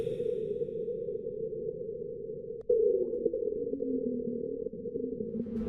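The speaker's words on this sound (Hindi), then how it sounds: "ऐसा माना जाता है कि यह साउंड मार्स पर आने वाले अर्थक्वेक की है" A marsquake recorded by NASA's InSight lander, heard as a faint, eerie tonal drone with a soft thud midway, after which a low gliding tone slowly sinks beneath the steady hum.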